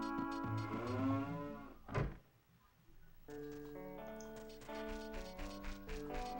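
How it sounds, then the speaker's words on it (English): Cows in the game Ocarina of Time let out two drawn-out, tonal moos, one at the start and another after a short quiet gap with a sharp tap, sounding close and clear over faint game background. "There's just cows here."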